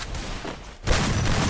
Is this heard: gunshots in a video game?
yes